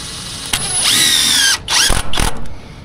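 A power drill drives a screw into wall framing during construction of a building addition, with a rising whine, a brief stop, then two shorter bursts close by.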